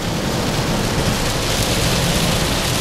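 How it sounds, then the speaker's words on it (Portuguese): Torrential rain pours down in a dense, loud, unbroken roar of drops near the Uruguay border town of Chuí, with no voices over it. "começou a chuva torrencial"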